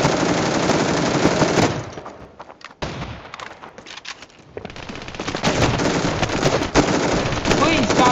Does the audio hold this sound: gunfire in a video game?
yes